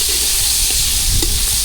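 Onion and garlic frying in hot oil in an outdoor garden kitchen, a loud, dense, continuous sizzle with a few faint stirring knocks underneath and no voices.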